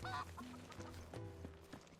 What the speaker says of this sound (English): No, I think it's just a chicken.